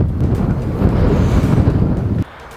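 Strong Alaska winter wind gusts buffet the microphone in a loud, rumbling roar for a couple of seconds, then drop off abruptly.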